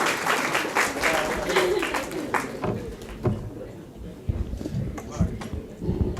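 Audience at a Gujarati poetry stage event applauds as a poet is introduced, a dense round of clapping that fades after a few seconds into scattered claps and background murmur.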